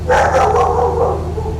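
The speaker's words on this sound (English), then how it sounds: "That's my dog, don't mind him." A dog barks inside the cabin of a Cessna 172 during a windy flight, a short yapping burst standing out over the steady low drone of the piston engine.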